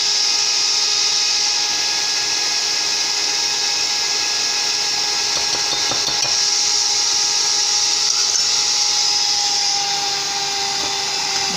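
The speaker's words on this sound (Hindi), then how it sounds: "चीनी इसमें डाल के इस तरह कर लें जैसे क्रीम होती है, इतना इसको बीट करना है" An electric beater whirs steadily at high pitch while whipping a sugar mixture for a sponge chocolate cake, loud and continuous for the whole stretch, with faint scraping against the bowl and no talk.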